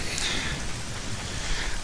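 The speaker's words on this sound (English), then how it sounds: "Now it's raining here" Rain falling in The Legend of Zelda Ocarina of Time, a soft continuous hiss of drops with faint low rumbles, quiet and steady with no talk.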